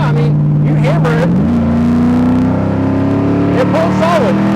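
A 4th gen F-body Camaro SS engine is floored, its droning note climbing steadily in pitch as the car pulls hard, loud and close, with brief whistling tones over the top.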